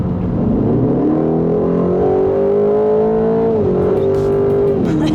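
A 2026 Aston Martin Vantage S, a first-drive car with an 8-speed ZF gearbox, accelerating hard with a loud rising engine note, climbing through a gear then shifting up again near the end, close and dominant.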